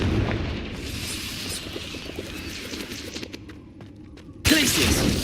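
Confringo fire spell blasts from Hogwarts Legacy combat: steady rumbling explosive noise with scattered crackling bursts, then a sudden loud boom near the end.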